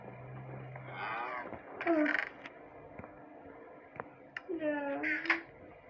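A video-game cow moos twice in bursts, with clicking and ticking sounds and a low hum in the background.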